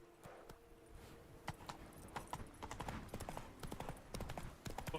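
Roach the horse trotting in The Witcher 3, a steady clip-clop of hooves that picks up and grows busier, close, with faint game ambience and a brief murmur of a voice.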